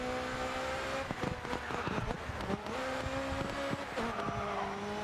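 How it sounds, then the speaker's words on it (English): A Caterham race car in GRID 2 roars steadily at high revs, its exhaust crackling and popping in rapid bursts throughout, with no talk over it. "There's a lot of explosions going on the engine here."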